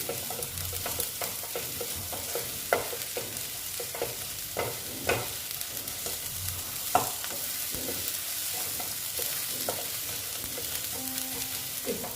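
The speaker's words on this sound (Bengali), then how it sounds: "এটাকে আমি ভালো মতন কষিয়ে নিচ্ছি" Masala for a katla fish curry is stir-fried in a pan with a steady, close sizzle. Scattered scrapes and knocks from stirring run throughout, and no voices are heard.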